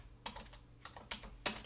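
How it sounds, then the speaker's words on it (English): Quick bursts of keystrokes on a computer keyboard, close and fairly quiet, in a few short uneven clusters with no talking. "let's go ahead and key that in here real fast. And I'm going to type in gap."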